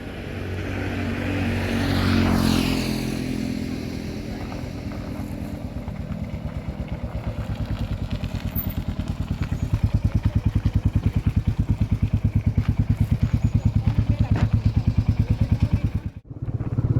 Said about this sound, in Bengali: সৌরভ বাইকটা নিয়ে আসুক